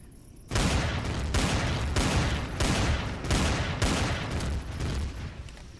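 Guns fire in the Empyrion: Galactic Survival space game during a fortress assault, with loud, dense bursts of rapid gunfire in repeated volumes and short gaps, continuing throughout after a quiet start.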